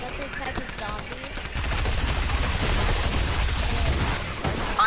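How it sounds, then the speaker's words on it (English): Rapid automatic gunfire from a drum gun in a video game, a dense stuttering burst that grows louder midway and rattles on steadily with talk and game noise mixed in. "The drum gun is amazing for this"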